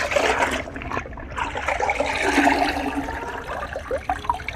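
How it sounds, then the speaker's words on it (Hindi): Water from a bucket pours over cloth being washed by hand, a steady loud splashing and gushing that runs the whole time with a brief lull near the start. "अब हम इस बाल्टी में जो हमने पानी भरा हुआ हम इसमें डालेंगे।"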